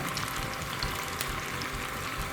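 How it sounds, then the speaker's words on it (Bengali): Potato wedges deep-fry in a pan of hot oil, giving a steady, moderately quiet bubbling sizzle with no pauses. "এগুলো ভেজে নেব একটা একটা করে অবশ্যই ডুবা তেলে ভাজতে হবে"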